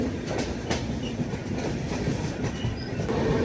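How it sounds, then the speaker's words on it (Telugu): The Bangalore–Howrah express rolls past at Gudur junction, a continuous rumbling train noise with faint rhythmic wheel clatter and occasional squeals, steady and fairly close throughout, with no talk. "ఇప్పుడే ఒక బెంగళూరు హౌరా ట్రైన్ వెళ్ళిపోయిందా"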